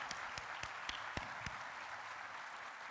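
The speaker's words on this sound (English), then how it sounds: "Let's give her a round of applause." Audience applause at a utility industry conference keynote, a steady roomful of clapping with several louder, distinct claps punctuating it in a loose rhythm near the start.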